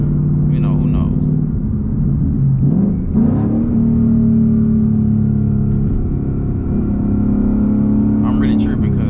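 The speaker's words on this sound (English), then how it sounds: "I love how the car sound now" A Ford Mustang GT drives along back roads, its engine and exhaust producing a steady low droning rumble with a brief pitch shift, heard from inside the car with someone talking over it.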